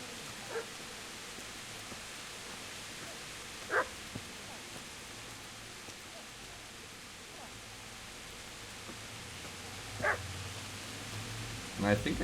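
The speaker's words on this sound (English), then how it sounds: "And I can hear the doggy." A dog barks faintly in the distance in the Kingdom Come: Deliverance video game: a few short, isolated barks spread well apart over a low, steady ambient hiss.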